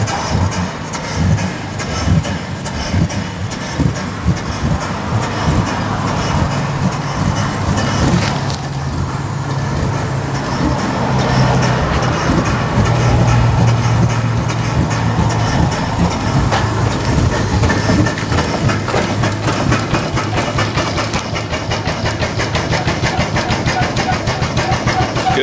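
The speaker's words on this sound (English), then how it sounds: "It'll run on 20 pounds of steam pressure." An 1876 live steam stationary engine running on about 20 pounds of steam pressure with a boiler nearby, giving a loud, continuous rapid chuffing and mechanical clatter close by, with no talk.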